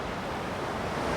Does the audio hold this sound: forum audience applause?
no